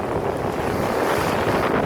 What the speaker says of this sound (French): Ça fait tellement longtemps qu'on n'a pas navigué de cette manière, vraiment, toute voile dehors, avec un joli vent de 12-15 nœuds.